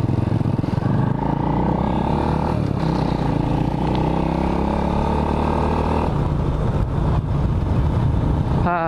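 A 2005 Suzuki Supra Fit motorcycle on a test ride around Rangkasbitung, its engine droning steadily and loud throughout with shifting revs, a brief lull near the middle, and faint voices underneath.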